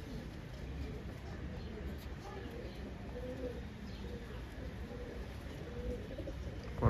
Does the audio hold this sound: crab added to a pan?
no